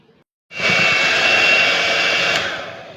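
An electric hand mixer whirs steadily and loudly, whipping cream set with gelatin, vanilla and sugar; the motor starts abruptly after a short pause and runs continuously for a couple of seconds before easing off slightly.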